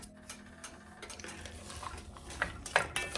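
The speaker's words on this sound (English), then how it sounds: "Now I'm just gonna saute these until the onions are just about translucent." Diced onions and carrots are stirred in a pot, with a spoon scraping and clinking against the metal in irregular bursts over a faint sizzle.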